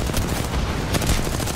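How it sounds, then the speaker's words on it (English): Gunfire in a shooter game, with dense, continuous crackling shots and bursts from several directions overlapping into a loud, chaotic barrage. "I'm getting shot by every team imaginable."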